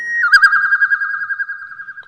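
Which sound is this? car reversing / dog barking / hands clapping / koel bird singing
koel bird singing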